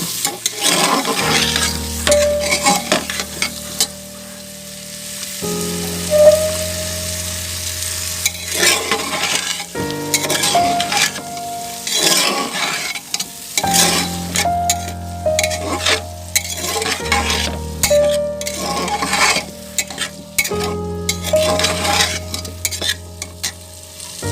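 Ingredients for a vegetarian dalia khichdi being sautéed in a pan, with steady sizzling frying under repeated scraping strokes of a spoon stirring throughout, close and fairly loud, with no talking.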